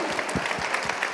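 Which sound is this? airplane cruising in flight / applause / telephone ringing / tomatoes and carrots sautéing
applause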